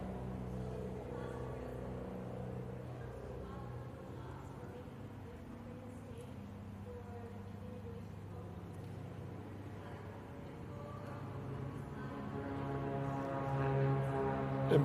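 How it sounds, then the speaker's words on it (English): Aircraft pass overhead during an outdoor news briefing held by California's governor, a steady low engine drone sitting in the background throughout and swelling slightly louder toward the end, with people talking over it. "Forgive the planes in the background."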